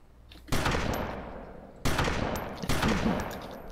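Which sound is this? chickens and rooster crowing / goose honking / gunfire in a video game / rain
gunfire in a video game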